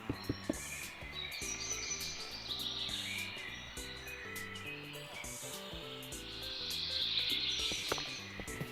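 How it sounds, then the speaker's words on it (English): Birds chirp and tweet in a Minecraft world in creative mode, bright repeated calls running throughout over a steady layer of blocky synthetic music, fairly loud and getting louder toward the end. "Man, these birds are loud as hell."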